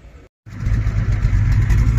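A Porsche 993 Turbo's engine, after a brief silent gap, surges into a loud, low, rumbling drone with a rough throaty texture that holds steady close by.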